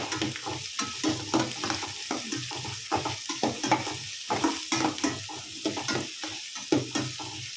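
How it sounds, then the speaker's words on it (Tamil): Onions frying in oil in a pan for a beetroot stir-fry, with a steady sizzle and repeated stirring scrapes and clinks throughout, close and fairly loud, no voices. "இப்போ ஆனியன் சேர்த்திருக்கோம். நல்லா வேகட்டும் ஆனியன்."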